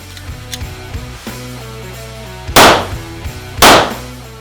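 Two sharp pistol shots fired by a shooter drawing and moving across an indoor range floor, loud and close, spaced about a second apart with brief decays, and softer handling sounds before them.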